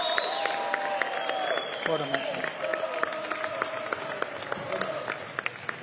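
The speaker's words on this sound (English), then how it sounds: "I want everyone to give Harry Powell a round of applause" At a live boxing event in Hull, a crowd applauds a fighter after his bout, scattered clapping and a few cheers beneath talk from nearby voices.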